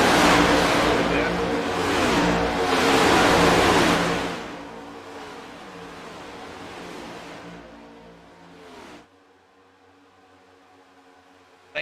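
A race car engine roars loudly through a racing broadcast, dense and sustained for several seconds before fading to a quieter hum and dropping away abruptly near the end.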